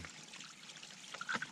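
Water trickling and splashing as a bottle cap is rinsed outdoors on the Appalachian Trail; a short, close, gentle dribble with a few brighter splashes toward the end.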